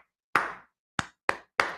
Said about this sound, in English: So I'm going to clap a pattern.